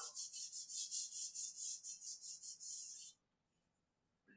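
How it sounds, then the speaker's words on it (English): Sandpaper rubs rhythmically along the primed trailing edge of a tail mold plug, about fourteen quick, even strokes close by before falling silent. "carefully sand that trailing edge so I don't cut through the primer"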